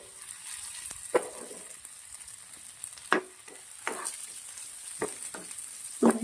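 Chopped onion is frying in a pan with cloves, green chilli and ginger-garlic paste. A steady, moderate sizzle runs throughout, broken by several sharp scrapes and clatters of stirring.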